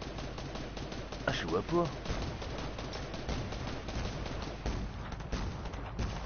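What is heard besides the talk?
gunfire from a video game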